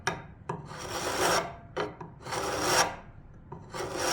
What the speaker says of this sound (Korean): 그러니까 여기서 이 방향대로 자연스럽게 갈아 나가는 겁니다.